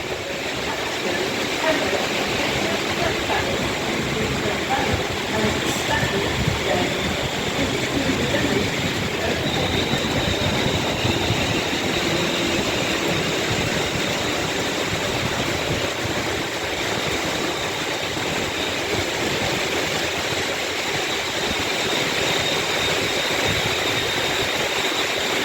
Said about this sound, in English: Coming in now, we have the really late running 1542 London North Western Railway service to Crewe